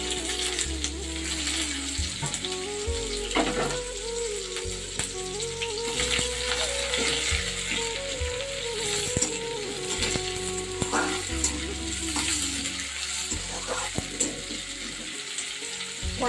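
Cabbage and chopped onion fry in a wok with a steady, close sizzle that runs the whole time, broken by repeated scrapes and clatters of stirring.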